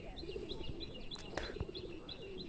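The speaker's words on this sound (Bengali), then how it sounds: "তো কবুতরে ডাকতেছে।" Pigeons coo softly outdoors while feeding on grass, faint low calls repeating over a steady background hum with a few higher chirps.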